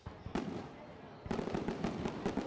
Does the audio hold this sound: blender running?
no